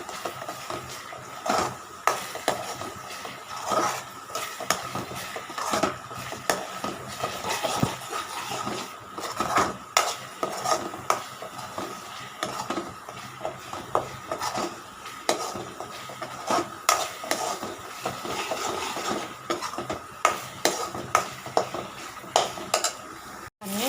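Onion and garlic paste sautéed in a pan for egg gravy, a steady run of close scraping, clinking and stirring strokes with a soft sizzle underneath, continuous throughout with no talking.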